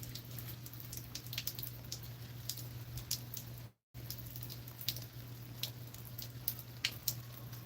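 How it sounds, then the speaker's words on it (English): Light, scattered rain patters and drips outdoors in a steady soft hiss, with sparse irregular drops and a constant low hum underneath. "the rain is lightening up"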